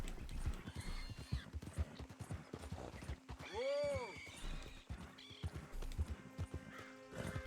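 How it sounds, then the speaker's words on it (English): Horse in the Red Dead Redemption 2 video game, rapid clip-clop hoofbeats with a loud neigh midway, over game ambience and someone talking. "My horse is a right jumper, isn't he?"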